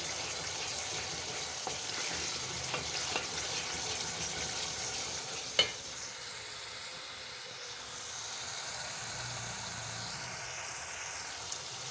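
Ginger-garlic and tomato paste frying in a pan for a Sindhi lotus root karhai, a soft, steady low sizzle with faint stirring and one brief clink near the middle.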